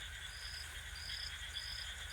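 A chorus of frogs croaks continuously, with repeated high trilling bursts over a steady, dense background of calls, no voices.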